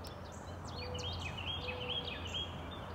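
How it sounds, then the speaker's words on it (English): A song sparrow sings in spring at Potomac Overlook Regional Park: repeated quick chirps and trills over steady outdoor background noise, with other birds calling around it. "Right now I'm hearing song sparrow."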